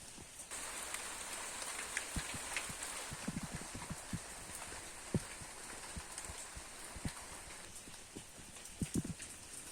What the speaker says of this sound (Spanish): se escucha solamente la lluvia por fuera y algunas gotitas que filtran